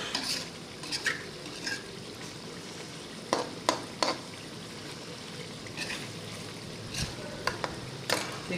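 Chicken frying in a pan under a low continuous sizzle, with intermittent scraping and clinking strokes of a utensil stirring it, close and fairly quiet, no voices.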